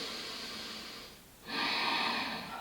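Two slow, deep breaths during a hamstring stretch: a soft airy inhale, a brief pause, then a fuller, louder exhale, close and quiet with no talking.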